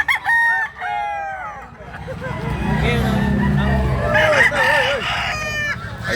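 Fighting roosters crow repeatedly in Baliwag, loud and close, with a busy murmur of voices and background chatter running underneath the calls.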